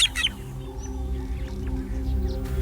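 An African drongo gives a false alarm call among meerkats in open country, short bird chirps rising over a low steady background hum of wild surroundings.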